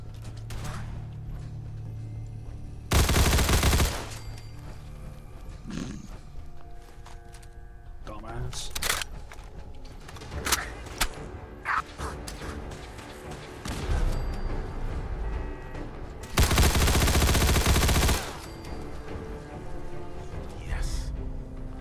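A poison laser gun firing in Fallout 4: two long, loud bursts of broadband fire, separated by clanks, clicks and other game noises, with talk running through.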